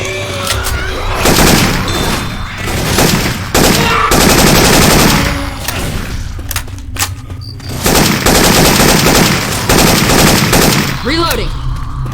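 Rapid Syphon Filter gunfire effects swapped into Left 4 Dead 2, with loud bursts of automatic shots and sharp single reports repeating throughout, mixed with in-game chatter and background action.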